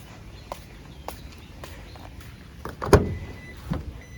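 Electric power windows on a 2020 Isuzu D-Max 3.0 S pickup, a few short, faint motor whirs and clicks with a sharper thump near the end, heard alone in a quiet space.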